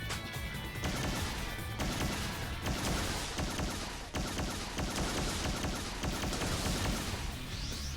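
Gunfire from the S4 League video game crackles in dense, rapid bursts of sharp, close shots with short pauses between volleys. Impact cracks mix in, and no one talks.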